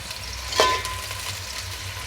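Onion pieces frying in hot oil for gongura chicken dum biryani make a steady soft sizzle, broken by one brief sharp scrape or clink of a utensil early on.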